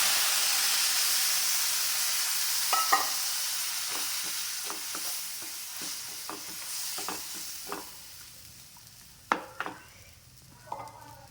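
Soya masala frying in a pan with a steady hiss and sizzle, broken by a run of scraping stirs and a few sharp clicks of the spoon against the pan, close and fairly quiet.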